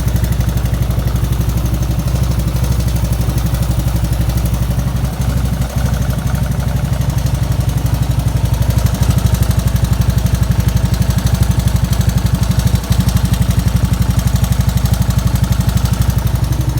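A 1984 Honda ATC 200s three-wheeler engine idling just after its first start, a loud, steady, close low putter with a fast even firing rhythm that holds throughout with no talking.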